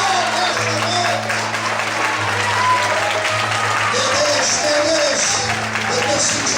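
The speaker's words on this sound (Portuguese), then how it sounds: "dá um brado de júbilo e aplauda o Senhor nesta noite" Church congregation applauding and shouting during an evening service, clapping and cheering voices over a sustained low organ-like drone and other tonal sounds, with talk mixed in.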